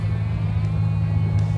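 A 1955 Chevy 210 sedan hot rod with a supercharged CTS-V engine rumbles while driving, a steady deep low-pitched drone heard close and alone with no talk.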